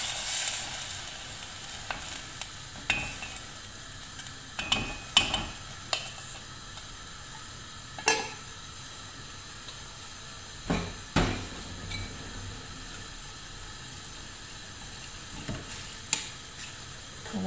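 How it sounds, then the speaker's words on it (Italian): Soft sizzling of pancetta in a pan with occasional clinks and scrapes of a utensil stirring, no voices. "La pancetta inizia a sfrigolare"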